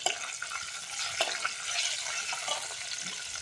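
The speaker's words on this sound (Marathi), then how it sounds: "त्याला थोडं थोडं हलवून घेऊया." Peanuts, chillies and ajwain fry in a pan for Khandeshi vangyacha bharit, giving a dense, steady sizzle. Light scraping stirs run underneath it.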